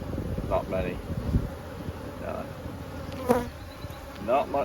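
Gentle buzzing of honey bees in a hive's honey super near the microphone, with a few brief bursts of speech and light handling sounds over the steady hum.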